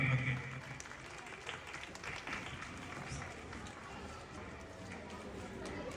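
At a mimicry stage show in Kozhikode, an audience claps in steady, sustained applause that carries on evenly throughout.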